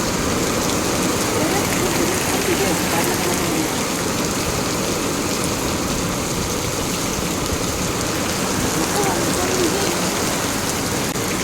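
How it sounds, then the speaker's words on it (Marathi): Heavy unseasonal rain with strong wind in a village pours down continuously in a dense, loud roar, with no break throughout. "पाऊस पण खूप असा जोरात पडतोय आणि हवा पण खूप आहे"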